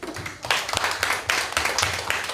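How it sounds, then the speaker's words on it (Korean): Congregation at a Korean church anniversary thanksgiving service claps, a moderate, somewhat uneven patter of hands in a few bursts, fairly quiet and not crowded. "박수 한번 쳐주세요."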